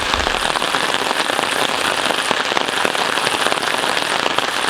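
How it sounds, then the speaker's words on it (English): Steady rain falls on a canopy over a fishing spot, a dense continuous patter with crackling drops across the whole span, fairly loud and close with no talking. "It's raining."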